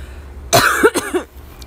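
A single sharp cough bursts out, followed by a couple of shorter throaty hacks, close and fairly loud against a quiet background.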